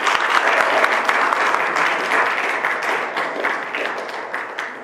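Audience applauding at a Korea University academic conference and concert marking the centenary of the March 1st Movement; dense, steady clapping from a large crowd that holds at full strength and eases slightly toward the end.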